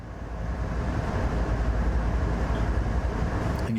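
In Train Sim World 5, the brakes of a BNSF ES44C4 locomotive pump up, a steady low mechanical rumble and airy hiss that swells and then holds at an even level, with no voices.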